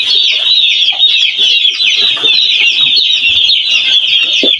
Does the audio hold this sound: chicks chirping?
yes